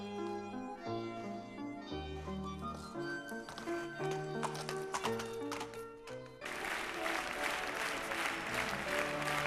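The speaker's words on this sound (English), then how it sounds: "Judging from the roar of applause that greeted Jean-Paul Gaultier as he took his bow" Applause roars for designer Jean-Paul Gaultier as he takes his bow at his fashion show. Music with a steady beat plays first, then a loud, dense wash of crowd clapping takes over for the last few seconds.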